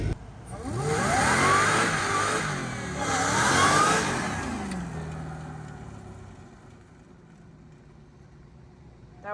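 A Hellcat-swapped Miata launches hard on a drag strip 60-foot run, its supercharged engine roaring loud and near through two rising revs with a shift between, then fading away into the distance.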